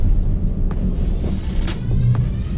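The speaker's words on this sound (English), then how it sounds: "As you can see, there's a snowy road, not being plowed or anything, and here I am testing the vehicle" A 2019 Toyota RAV4 on test drive along an unplowed snowy road, giving a loud steady low engine and tyre rumble from inside the cabin, with faint intermittent clicks and knocks.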